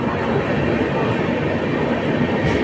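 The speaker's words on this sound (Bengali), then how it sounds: "1 মিনিটের হল্ট ছিল, ট্রেন ছেড়ে দিল।" A passenger train on the Secunderabad to Tirupati route pulls away from a station after a one-minute halt, giving a steady, loud rolling rumble of wheels and carriages with no voices.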